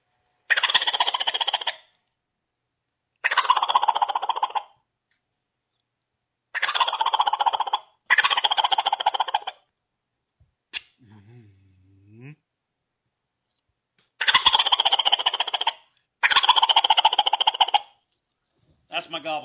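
A man imitates a wild turkey's gobble with his voice, a champion-style gobble call given in repeated loud rattling bursts close to the mic, with brief pauses between calls and a short low grunt partway through.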